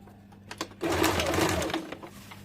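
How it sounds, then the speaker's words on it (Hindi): Sewing machine running a seam along a petticoat, a quiet start with a few clicks then a steady buzzing whir lasting over a second before slowing, close and moderately loud. "अब पूरे में इसे सिलाई डाल देंगे।"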